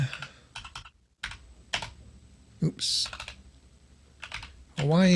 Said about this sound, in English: I'm going to type in Hawaiian